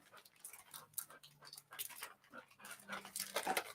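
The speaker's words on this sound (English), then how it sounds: "He's a good-looking pup." A young puppy pants in quick, uneven breaths close by, with small shuffles and faint whimpery sounds mixed in, in a quiet setting with no talking.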